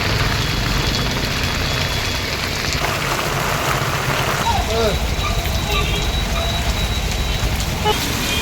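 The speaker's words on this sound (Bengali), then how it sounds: "খুব জোরে বৃষ্টি হচ্ছে" Heavy rain pouring down outdoors while someone waits under a shelter, a dense continuous roar of drops close by and loud throughout, with a faint vehicle sound in the background.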